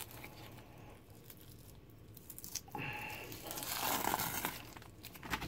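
The skin is pulled off a perch by hand, giving faint close crinkling and tearing sounds in short bursts, with soft handling noise between them.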